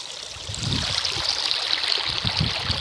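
Rainwater runs steadily through a village stream, a close, continuous rushing and trickling flow that swells slightly after a brief quieter start, with no voices.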